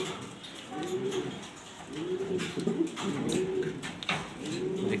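A pair of black Danish pigeons coo close by in repeated soft, throaty rolling phrases, with a faint background hum.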